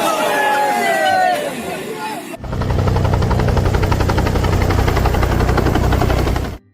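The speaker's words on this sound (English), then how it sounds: "A helicopter crashes on the beach after the pilot loses control." A helicopter losing control and crashing onto a beach, heard as a dense, loud rotor and engine roar with rapid chopping pulses that start abruptly and hold steady before cutting off, following a stretch of excited crowd chatter.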